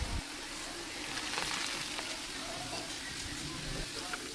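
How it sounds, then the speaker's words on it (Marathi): Noodles that were boiled and coated in cornflour deep fry in hot oil at a street-food stall, giving a fairly quiet, continuous hissing sizzle with small crackles throughout. "हे नूडल्स मी तेलामध्ये डीप फ्राय करून घेतले"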